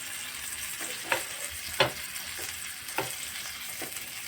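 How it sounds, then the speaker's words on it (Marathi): Halwa (pomfret) coated in masala fries in hot oil in a pan, a steady close sizzle with a few sharper crackles and pops standing out, no voices. "आता खालच्या बाजूला आपण चांगली फ्राय होण्यासाठी आपण इथे तेल टाकत आहोत"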